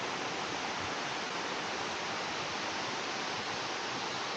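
The Seven Little Girls waterfall (Chet Sao Noi) in Thailand, a multi-tier cascade, roars as a steady, even wash of falling water, constant throughout with no voices.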